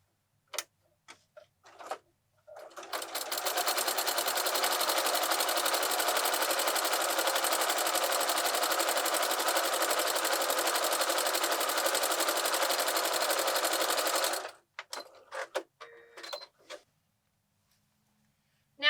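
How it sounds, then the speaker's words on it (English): A sewing machine runs steadily for about twelve seconds, stitching quilted place mat pieces along a quarter-inch seam, with a few faint clicks of handling before and after. "stitch all the way down"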